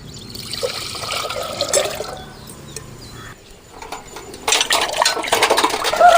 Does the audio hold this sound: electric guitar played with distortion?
no